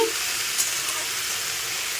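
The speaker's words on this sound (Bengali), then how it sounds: "তো এখানে আলু ভাজা বসিয়েছি" Potatoes and onion fry in oil in a wok, a dense, even sizzle heard up close with no pauses and no voices.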